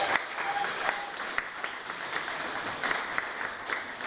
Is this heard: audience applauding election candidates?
yes